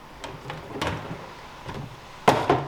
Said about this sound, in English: I had the drawer down the wrong way.